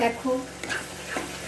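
Spice paste frying in hot oil in a pan, a soft, close sizzle with stirring while a voice says a single word at the start.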